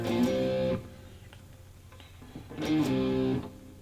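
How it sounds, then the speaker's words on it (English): Two short bursts of distorted electric guitar rhythm chords from a song, loud and gritty, separated by a quieter gap with light muted picking noise between them. "This is where we go into the rhythm guitar part."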